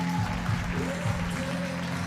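A crowd at a netball match between Gibraltar and the Cook Islands gives steady applause for the Cook Islands team, while a commentator talks over it.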